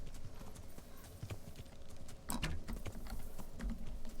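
Horse hooves clip-clopping in the medieval game Kingdom Come: Deliverance during a knight fight, a steady patter of hoofbeats at moderate loudness with a louder burst of impacts midway.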